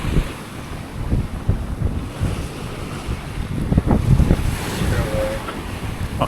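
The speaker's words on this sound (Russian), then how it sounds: "Волны, они идут с разных сторон, иногда они в каких-то точках соединяются, усиливаются." Open ocean waves slap and wash around a sailboat at sea, irregular surges of water over steady wind buffeting the microphone.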